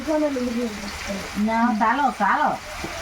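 Duck meat sautéing in oil in a pan in a Sundarban home kitchen gives a steady frying sizzle, while people talk in the foreground for most of the clip.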